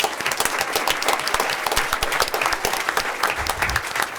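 Audience applause at a board of education meeting honoring a student team, steady crowded clapping with sharp individual claps throughout, fairly close and loud, with a few low thumps near the end.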